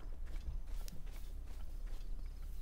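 Horse hooves clop at a walk in the Zelda: Breath of the Wild video game, a soft irregular series of steps over a dense background bed.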